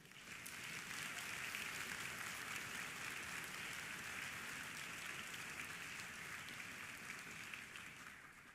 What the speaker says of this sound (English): So students, give yourselves a round of applause.